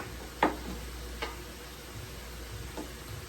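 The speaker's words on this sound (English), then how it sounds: "We are gonna add our veggies back to the pan." Steak and vegetables hit a hot pan, a soft steady sizzle with a few sharp clinks of a utensil against the pan, quiet and close.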